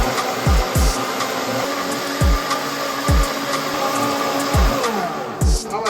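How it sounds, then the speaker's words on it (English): High-speed blender running on sea moss and water, a loud steady motor whine with repeated low thumping pulses as the contents slosh and churn against the jar, roughly every half second to second. "we're going to add it to our high-speed blender, all right? And we're just going to cover and blend."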